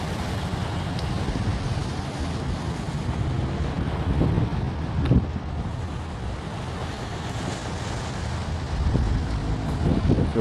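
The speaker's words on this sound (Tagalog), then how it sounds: "Masarap yung hangin dito" Steady wind buffets the microphone in a continuous low roar at a seaside port in Zamboanga City, with faint water and harbor ambience underneath.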